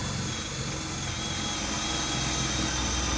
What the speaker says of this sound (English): drill a hole in it all the way through